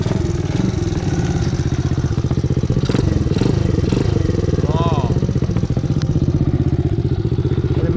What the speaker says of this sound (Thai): เสียงเครื่องนิ่มมาก